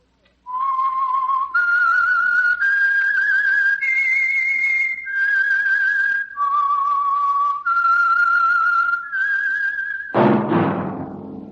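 A lone whistled melody, the theme of The Whistler radio program, plays clearly in a slow series of sustained held notes stepping up and down, ending with a burst of orchestral sound.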